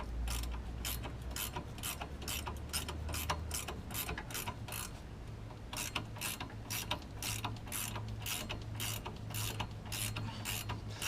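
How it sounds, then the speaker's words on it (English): A 14mm combination ratcheting wrench clicks in a fast, even rhythm while loosening the upper strut bolt on a Ford Ranger during suspension disassembly. The strokes are close and clear, with one brief pause partway through. "I've got a 14mm combination ratcheting wrench again, and we're just going to put that right up here."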